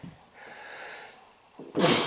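A single close, sharp raccoon sneeze bursts out after a stretch of soft, low background noise on a cold night.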